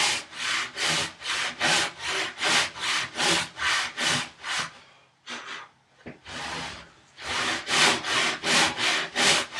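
Close, rhythmic hand sawing of a tenon cheek in wood, quick rasping strokes that pause briefly midway with some quiet shuffling before the steady cutting resumes.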